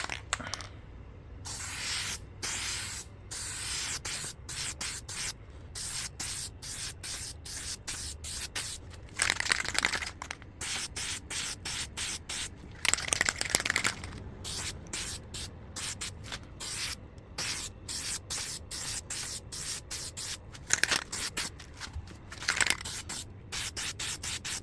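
Spray paint hissing onto an Xbox Series S console in repeated short bursts, each few-second blast separated by brief pauses, close and fairly loud with no talking over it.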